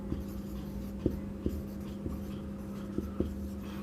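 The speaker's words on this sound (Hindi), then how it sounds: "मैं यहाँ पे लिख देता हूँ" Pen scratching on paper while someone hand-writes points for a math problem, with short periodic taps and strokes over a steady low hum, close and alone with no voice.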